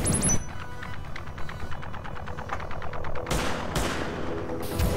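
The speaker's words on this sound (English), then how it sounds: "that's a pretty damn good range on that flame turret" A flame turret fires in a video game, giving off a loud, continuous stream of rapid, evenly spaced bursts like fast automatic fire, with a few sharper hissing blasts near the end.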